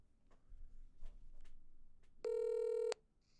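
A phone call rings through toward voicemail: a single steady electronic tone sounds for under a second after soft, muffled line clicks, fairly quiet and alone.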